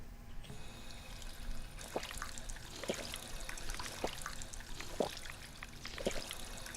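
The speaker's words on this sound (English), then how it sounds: "Now can I have a drink of water, Slack?" Water pouring and trickling in Fallout 4 while a character drinks, a continuous liquid gurgle broken by five evenly spaced, sharper splashy gulps about a second apart.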